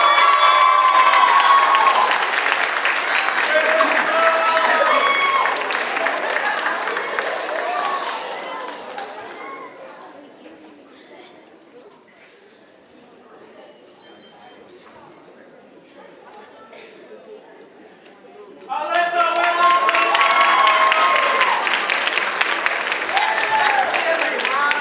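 Audience at a certified nursing assistant pinning ceremony applauds and cheers loudly, fades to a quieter murmuring lull partway through, then bursts back into full clapping and cheering near the end.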